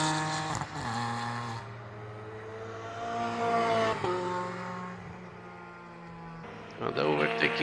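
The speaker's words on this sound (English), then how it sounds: "Mistautas is catching number 79, Reino Motorsport" An older BMW M3, car number 79 of Reino Motorsport, races on a circuit during a touring car event, its engine droning and rising through the gears while a commentator talks over it.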